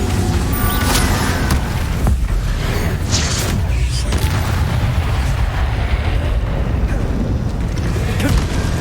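Incendio and Confringo spell blasts in the Hogwarts Legacy video game, a dense, loud rumble of fiery bursts and booms layered over continuous game noise, with a voice speaking now and then.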